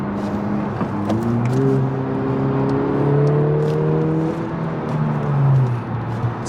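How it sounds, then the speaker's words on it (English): A 2020 Honda Civic Si with a turbocharged engine and six-speed manual revs up and holds, a steady engine drone rising and falling in pitch, close and prominent with no talk. "It's not easy to rev match with all the rev hang that this engine has"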